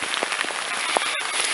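Rain falling on the rocky Appalachian Trail at Mahoosuc Notch, a steady dense hiss of drops pattering on surfaces with a few sharper close taps, moderately loud and without talk.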